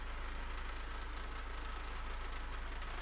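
A BMW E46 engine idles with a steady, even low hum and faint rhythmic pulsing during an automatic gearbox oil change, quiet and continuous with no talking.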